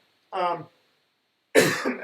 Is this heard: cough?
yes